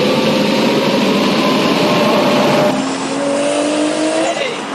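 A car engine winds up hard under full load on a dyno, making 615 rear-wheel horsepower. It roars loud and steady for about three seconds, then rises in pitch again before cutting off abruptly.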